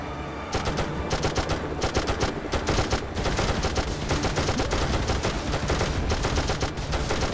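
Dense, continuous video game gunfire from LEGO Marvel Super Heroes, rapid overlapping shots sustained loud and close for about seven seconds after a brief quiet start, with no talk.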